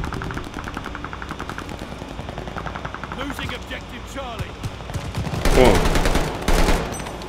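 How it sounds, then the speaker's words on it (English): Gunfire in the video game Call of Duty: Vanguard on Xbox Series X, with steady rapid bursts of automatic fire and louder explosive bangs near the end, mixed with other game sounds. "Where are they shooting from?"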